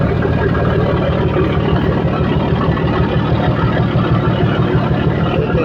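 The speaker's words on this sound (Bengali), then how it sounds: "মানুষের শব্দ নাই, শুধু ইঞ্জিনের শব্দ।" Steady low engine drone running continuously, loud and close, with a constant rumbling hum and no voices.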